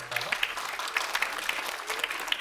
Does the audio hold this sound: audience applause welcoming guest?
yes